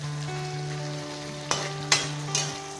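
Onion with cumin, coriander, garlic and dried chillies frying in oil for a fish curry, a steady close sizzle under a low hum, broken by three sharp stirring scrapes near the end.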